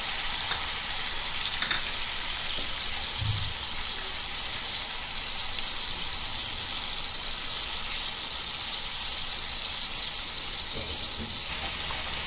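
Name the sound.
onions frying in oil in a pan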